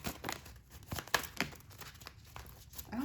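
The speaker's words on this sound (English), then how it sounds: "I didn't shuffle pile number 1 like this." A pile of tarot cards being shuffled by hand: close, papery rustles, flicks and crinkly scrapes in uneven bursts, with no speech.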